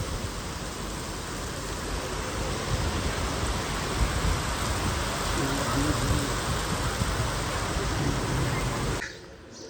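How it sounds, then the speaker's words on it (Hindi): A dense, steady roar of heavy rain pouring down, with faint voices underneath, cutting off abruptly near the end. "एक दफ़ा शदीद बारिश आ गई है"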